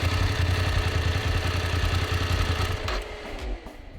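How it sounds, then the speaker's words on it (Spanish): A parked motorcycle on its stand with its engine idling while the electric radiator cooling fan cuts in, a steady low throbbing hum with a whirring layer that shifts and drops in level near the end. "Lo segundo, esperar a que salte el electroventilador."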